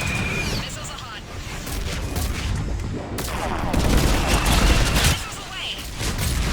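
Missile launch in the sci-fi shooter Mass Effect 3, loud booming bursts and rushing blasts over a dense rumbling battle bed, steady and close, with voices at times.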